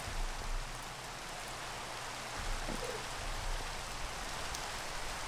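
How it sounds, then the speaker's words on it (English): Steady rain in a video game hisses evenly and continuously, a soft, constant patter with no voices over it. "and it's raining"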